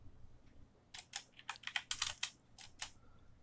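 Typing a profile name on a computer keyboard in a PC BIOS setup screen: a close, crisp burst of about a dozen quick keystrokes with short pauses, alone in a quiet room.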